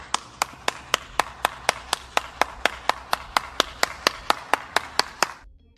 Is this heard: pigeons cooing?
no